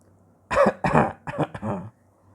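A voice imitates a cough: four short, harsh vocal bursts in close succession, loud and near, with quiet before and after.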